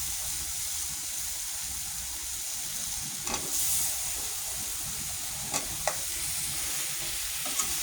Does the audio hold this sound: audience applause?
no